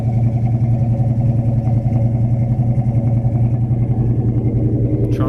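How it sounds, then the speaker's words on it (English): A deep, steady V8 dual exhaust rumble from a 1969 Chevelle Super Sport idles close by with a loud, even low-frequency throb and no talking, a brief click near the end. "Dual exhaust sounds good. It's got a nice rumble to it."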